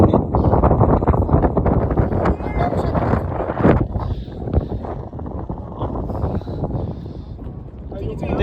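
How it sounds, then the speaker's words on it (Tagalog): Wind gusts buffet the microphone on a desert hike at the Edge of the World cliffs in Saudi Arabia, a steady rumbling roar beneath people talking nearby. "Mahangin, no? Maganda nga mahangin kaysa yung mainit."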